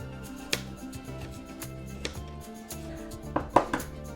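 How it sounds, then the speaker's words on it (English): Vegetables being chopped on a board for egg muffins, a handful of separate knife thuds spaced irregularly over a quiet kitchen background, with a quick cluster of cuts toward the end. "Finally chop your vegetables so they'll cook quicker."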